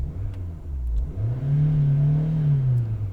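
A 2003 Fiat Stilo 1.6 three-door petrol engine idling steadily just after start-up, a close, continuous low hum with a slight rise in revs partway through, heard alone without talk.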